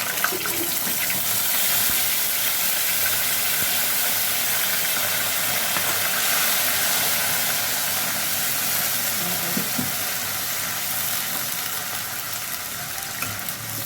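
Whisked sour yogurt poured into hot oil for a doi katla fish curry, a loud, steady broadband sizzle and hiss that holds evenly throughout, with no voices.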